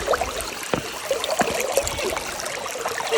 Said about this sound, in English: love the sound of running water in the woods